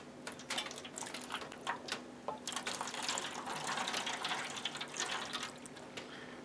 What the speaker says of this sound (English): Pouring that over everything.